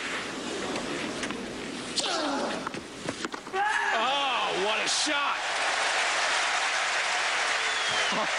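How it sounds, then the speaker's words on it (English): Roland Garros stadium crowd at the 2005 French Open men's semifinal, broad steady applause rolling on for seconds with scattered cheers, while a commentator talks over part of it. "Listen to this crowd."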